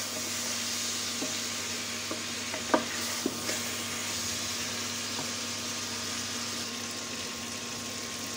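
Rohu fish sautéing in a pan gives off a quiet, steady sizzle, broken by a few sharp scraping clicks from stirring, with no voices.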